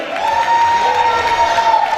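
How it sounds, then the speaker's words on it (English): An audience at an outdoor event cheers and applauds in a dense, steady roar, with a sustained high whistle or whoop running through the crowd noise. "How about an applause for Sergio Colini?"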